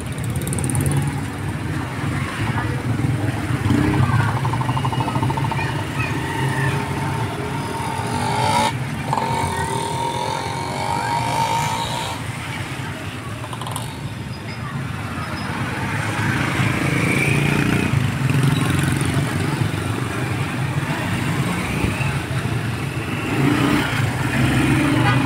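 Slow-moving traffic of cars and motorcycles stuck behind a parade in Sorsogon City, Philippines, with engines idling and revving close by in a continuous rumble, occasional louder motorcycle throttle bursts rising over it.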